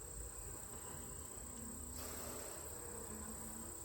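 Honeybees buzz around a couple of cells in a hive frame, a faint, continuous hum with a steady high whine over it and no talking.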